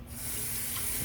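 Tap water runs continuously over fresh asparagus being rinsed in a sink, a steady close hiss and splash that starts abruptly and holds an even level throughout.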